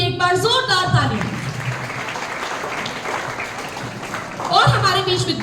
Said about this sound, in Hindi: सर के सम्मान में भी एक बार जोरदार तालियां।